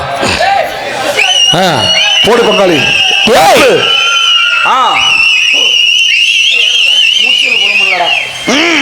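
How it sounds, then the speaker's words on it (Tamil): Loud piercing whistles ring out repeatedly from a crowd, mixed with shouting voices and cheering, sustained and close throughout. "இந்த விசில் கைதட்டுங்கப்பா"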